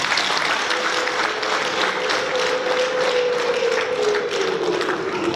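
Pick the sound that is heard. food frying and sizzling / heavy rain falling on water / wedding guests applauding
wedding guests applauding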